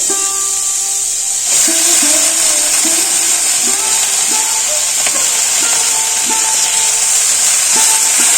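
Bathua greens and fried eggplant sizzle and hiss in a pan, with a broad steady frying roar that jumps louder as the greens go in, plus repeated scraping stirs throughout.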